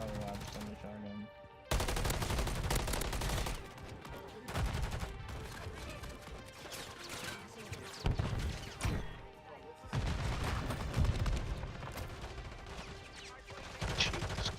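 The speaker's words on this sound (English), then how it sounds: "Shotgun, shotgun." Dense, continuous gunfire from a Call of Duty match, loud rapid blasts and bursts piling up almost without pause, with a brief quieter gap near the start.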